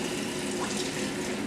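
Tap water runs steadily at a sink while tomato cans are rinsed out during home sauce-making, a continuous close hiss and splash with no talk.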